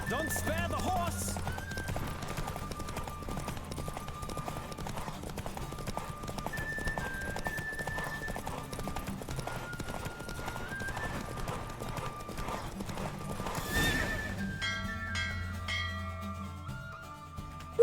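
Horse hooves clip-clopping at a steady galloping rhythm in The Witcher 3, up close and loud throughout, with a short whinny and background music and game voices underneath.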